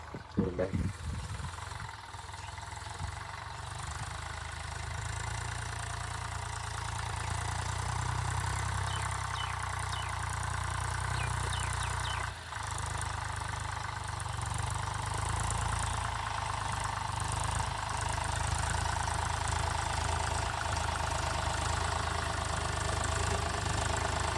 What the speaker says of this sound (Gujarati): તો આપણે ટ્રેક્ટર ચાલુ કરી દીધું છેડવાનું.